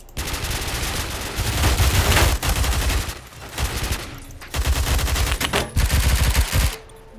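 Rapid automatic gunfire from an overpowered gun in Roblox Phantom Forces rattles in loud, dense bursts separated by brief pauses, with sharp cracking shots close up and nearly continuous.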